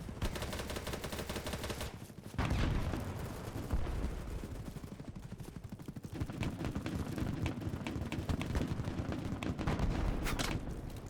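Rapid, sustained video-game gunfire fills the mix, dense crackling volleys with a short lull partway through, loud and continuous with no talking.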